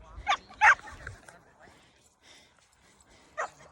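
A dog gives a few short, sharp yips and barks with whimpering between them, close by in a quiet room, with a longer pause before a final yelp.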